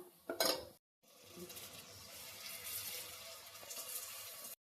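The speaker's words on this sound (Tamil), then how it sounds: "கொஞ்சமாக மசாலா அடி பிடிக்காமல் கிளறி விடுவோங்க" Masala and curd are stirred in a pan for a mutton dish, starting with a brief clatter of a utensil against the pan, then a short pause, followed by a low, steady sizzle and stirring scrapes.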